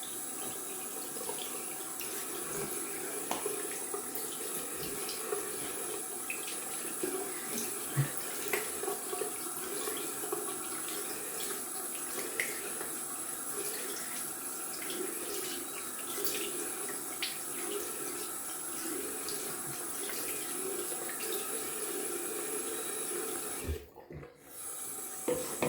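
Tap water runs steadily from a faucet into a sink while a shaving brush is rinsed, a continuous close hiss with faint clinks that stops briefly near the end.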